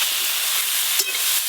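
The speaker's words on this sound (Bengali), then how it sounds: "এবার কেটে রাখা ঝিঙে দিয়ে দেবো।" Chopped ridge gourd hitting hot mustard oil already seasoned with black cumin and green chilli, giving a loud, steady hiss of frying with a small stirring bump midway.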